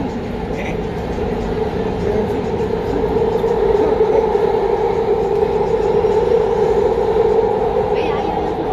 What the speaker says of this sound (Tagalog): Riding the train? Very fast.